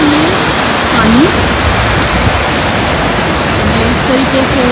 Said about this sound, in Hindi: इस तरीके से नदी बन गई, और आगे जाके राफ्टिंग भी इसी पानी से कराई जाती है।